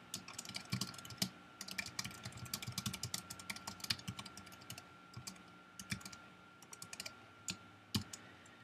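Rapid, irregular clicks of keys being typed on a computer keyboard while entering question text into an online form editor, close and fairly quiet with steady keystrokes throughout.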